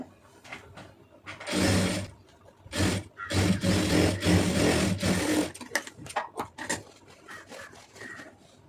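A sewing machine stitching a lined blouse runs in loud, close whirring bursts, a long run in the middle and shorter start-stop spurts toward the end.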